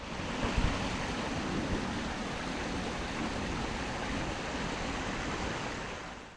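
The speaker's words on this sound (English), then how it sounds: "there's the Woonasquatucket River. It's going to flow under this bridge to the other side" The Woonasquatucket River flows under Capron Bridge, a steady broadband rush of water that runs unbroken for several seconds. It holds an even level, with a soft low thump near the start.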